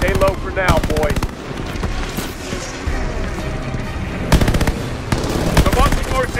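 Heavy automatic gunfire from a Call of Duty: Vanguard battle at Midway, with loud rapid bursts of machine-gun fire starting and stopping over a dense wash of combat noise.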